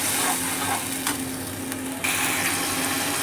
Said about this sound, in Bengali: এবার এটাকে আমি ভালো করে নেড়ে চেড়ে মশলাটাকে ভেজে